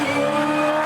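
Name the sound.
Supercars race car accelerating at full throttle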